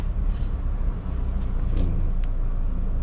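A 2019 Perodua Alza 1.5 SE automatic car drives and turns, its engine and road noise forming a loud, steady rumble from inside the cabin.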